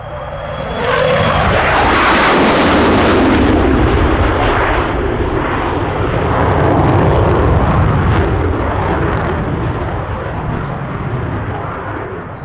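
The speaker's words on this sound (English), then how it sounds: "his turn radius will be much smaller as he showcases the really tight turn radius of the F-18" An F/A-18 Hornet fighter jet passes overhead at full power on afterburner, a loud roaring blast that swells quickly then lingers as a broad rushing rumble fading slowly over several seconds.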